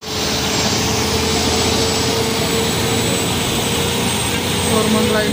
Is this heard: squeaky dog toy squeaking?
no